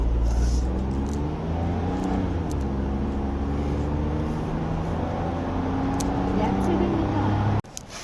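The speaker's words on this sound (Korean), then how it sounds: "경차지만 박스 형태의 그런 형태를 띠고 있기 때문에 풍절음이 조금 일찍 시작된다라고 이제 보시면 될 것 같습니다" Inside a Hyundai Casper 1.0 on the move, a steady engine and road drone fills the cabin with a broad rushing wind noise for the whole stretch, ending abruptly near the end.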